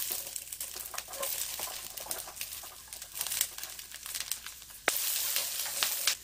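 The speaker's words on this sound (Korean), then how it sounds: "약간 약한 불에서 마늘이 어느 정도 좀 익었다 싶을 때 마늘종을 넣고 볶아줍니다" Garlic scapes and garlic stir-frying in a pan over low heat give a steady crackling sizzle with light crinkly pops throughout, close and moderately loud, with no voices.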